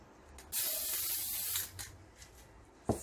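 An aerosol spray can mists paint onto a glass jar in one long, steady hiss of about a second, followed by a few faint clicks and a short sharp tap at the end.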